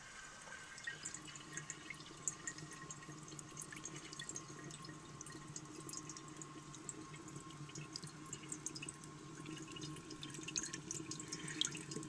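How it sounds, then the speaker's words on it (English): A 1936 Standard Modernus toilet on a test stand refilling with water, a steady close rushing hiss with faint dripping, continuous and even throughout with no voices. "it's ready to fill and flush"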